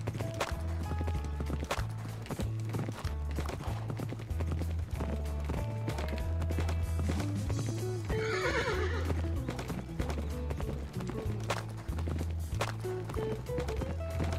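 Minecraft horse hooves clip-clopping steadily over looping game music, with whinnies and neighs breaking through near the middle and continuing throughout.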